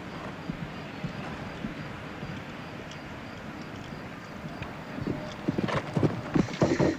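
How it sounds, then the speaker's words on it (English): Horse hooves pounding through a show jumping round at the Athens 2004 Olympics, with a steady rhythm of strides under crowd ambience that swells louder near the end. "this little mare is just a cracker, and he jumped a beautiful round on her earlier today with Cottonelli"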